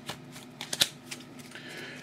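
A quick riffle of cards, soft papery flutters with a couple of sharper snaps near the middle, fairly close and quiet, no talking.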